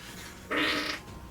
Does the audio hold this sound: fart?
yes